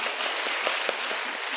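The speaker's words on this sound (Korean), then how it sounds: "다시 한번 박수하도록 하겠습니다." A church congregation at a Wednesday worship service claps together in a short burst of dense, even applause, fairly close and sustained with no talk over it.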